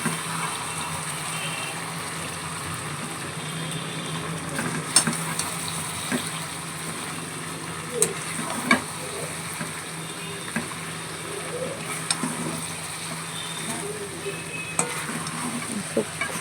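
Chicken and potatoes fry in a pan with their own marinade, no added water, giving a steady close sizzle broken by scraping stirs and occasional clinks across the whole stretch, with no talking.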